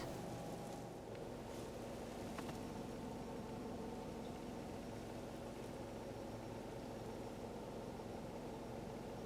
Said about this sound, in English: The startup is refined and quiet.